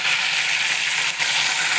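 Curry leaves go into hot oil in a pan as tempering for a Telugu ridge gourd and onion fry, giving a loud, dense, continuous hiss and crackle close by, with no voice over it.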